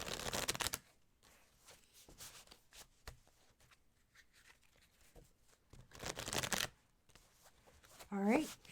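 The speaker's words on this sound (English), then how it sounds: "All right, shuffle." Tarot cards are shuffled in a couple of quick riffling bursts, close and crisp, with a voice speaking briefly near the end.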